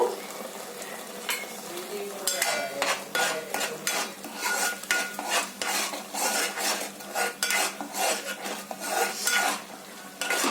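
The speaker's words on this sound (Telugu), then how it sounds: "ఒక 2 స్పూన్ల సాల్ట్ వేసుకొని కలుపుకుందాము." A spoon stirs salt into chicken curry in a pan, sending rhythmic scraping and clinking strokes over a steady low sizzle, close and fairly loud, with no talking.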